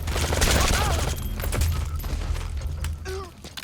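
Rapid gunfire from an absurdly long rifle in Metal Gear Solid V: The Phantom Pain, a loud burst of shots in the first second or so, then scattered bangs and game effects with faint speech mixed in.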